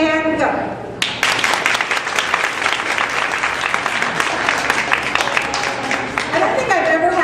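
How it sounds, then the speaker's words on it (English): An audience at a horse-riding demonstration claps lightly for several seconds in a dense, steady patter of hand claps. It starts abruptly after a brief quiet moment and stays fairly even throughout. "I want you to clap lightly and go."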